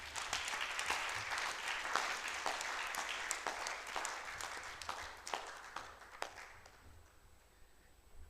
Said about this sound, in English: a round of applause to Meredith